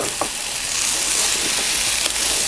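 Sliced okra tossed into hot oil with onion and chili sets off a loud, dense, hissing fry that holds steady throughout, with a few faint clicks of a utensil against the pan.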